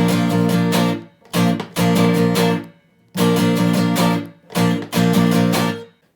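An acoustic guitar plays a strummed pattern with muted beats, loud and close, in bright chord bursts broken by short silent gaps that give a hopping, percussive rhythm.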